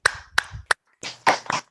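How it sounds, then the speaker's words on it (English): A few scattered hand claps from a small group of participants closing a virtual postgraduate graduation ceremony, sparse and uneven over under two seconds, thin and close as if through separate microphones. "we just have one final round of applause and congratulate everybody"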